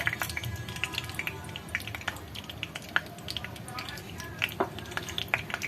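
Peanuts roast in oil in a pan, producing a faint crackle with scattered clicks and light metallic clatter as they are stirred, under a person's talking.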